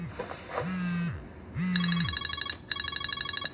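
A telephone rings in a film scene, its rapid electronic trilling bursts coming in a repeated pattern over low tonal hums and background sound, loud and near.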